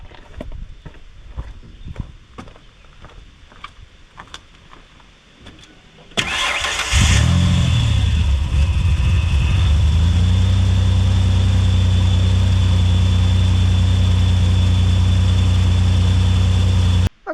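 An older car in rough condition with a leaking transmission cranks briefly and fires up, then settles into a loud, steady idle for about ten seconds, preceded by footsteps and shuffling.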